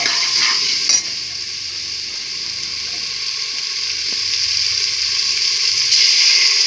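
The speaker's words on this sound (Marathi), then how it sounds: "परत सगळं मिक्स करायचं." Mixed vegetables with tomato and salt sizzle steadily in a hot pan while a spoon stirs and scrapes through them, with a couple of sharp knocks against the pan.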